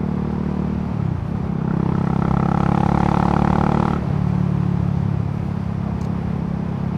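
A motorcycle on the road, its engine a steady, loud drone that swells as it revs through the middle, then drops back to a lower hum, heard continuously alone without voices.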